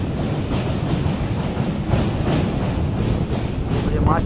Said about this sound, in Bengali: আমাদের ট্রেন আবারও চলতে শুরু করলো দেখো।